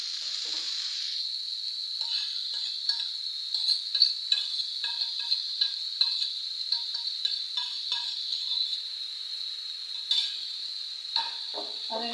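Chopped papaya goes into a hot pan for a papaya curry, bursting into a strong, steady sizzle with repeated soft clicks and scrapes of stirring throughout, close and loud, no voices.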